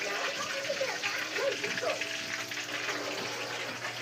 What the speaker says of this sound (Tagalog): Nagluluto si Papa, oh. Luto si Papa.